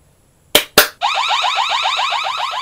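Two sharp claps trigger a phone anti-theft app alarm that starts right away, a loud rapid repeating siren-like electronic warble that continues steadily and close.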